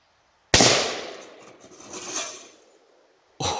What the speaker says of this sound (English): So I took 2 shots with the AR.